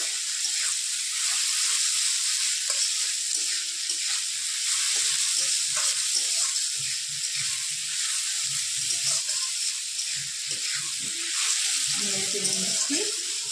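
Veg chowmein with cabbage and potato sizzling in a pan, a steady bright frying hiss throughout with occasional stirring clatter and some speech under it.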